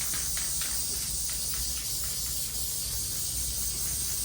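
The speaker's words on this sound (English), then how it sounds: "Now I'm going to spray the other side of this board, or this cardboard, because you want both sides to be sprayed." Aerosol spray hissing steadily onto both sides of a cardboard board for homemade blinds, a continuous close, even hiss with faint pulses and no talking.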